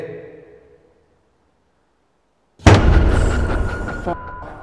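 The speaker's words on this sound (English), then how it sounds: "That was a f***ing door slamming and it was down here." A door slams somewhere inside a quiet building after a stretch of near silence, a sudden loud bang followed by a dense rumbling decay.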